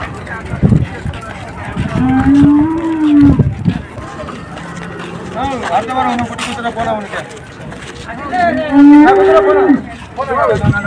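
High-breed dairy cows, bought in Chintamani to be taken to Kerala, moo in long, low, drawn-out calls. Two prominent calls sound near and loud, while people talk throughout.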